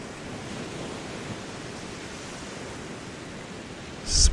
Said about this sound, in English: There is a message here riding on the waves.